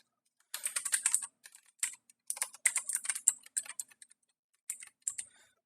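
An anti-phishing code goes in on a computer keyboard, rapid bright key clicks in several close bursts with gaps between them and no talk.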